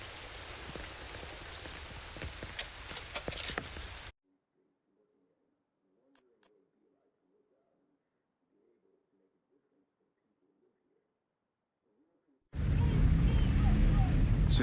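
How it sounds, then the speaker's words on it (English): Heavy rain in The Division 2 hisses densely for a few seconds, cuts to near silence, then returns loud and steady at the end. "I just want to get out of this fucking rain."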